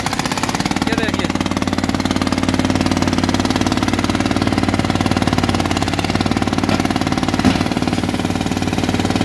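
Small tractor engine pulling a loaded buggy at a sugar mill, a steady, loud, close mechanical chug running continuously without a break.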